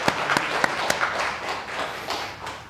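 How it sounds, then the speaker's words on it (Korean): A church congregation at a Sunday worship service claps briefly, a scattering of distinct sharp claps over soft background noise, fairly close and moderately quiet. "이럴 때 박수를 한번 해야지"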